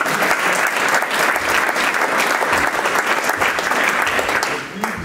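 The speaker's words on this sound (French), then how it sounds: "Je crois qu'on peut encore applaudir nos 3 orateurs ce soir." An audience applauds three speakers at the close of a public debate on solar panels and heritage. Dense, steady clapping from many hands fills the whole stretch, loud and sustained, tapering only slightly at the end.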